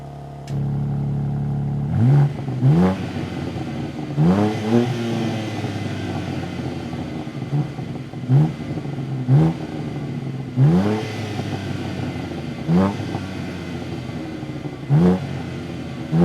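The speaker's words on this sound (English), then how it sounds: "Just want to show you the exhaust, how this thing sounds" A 2023 BMW M2 engine revs repeatedly, with sharp bursts of exhaust rising and falling over a steady idle, close and loud, with no talking.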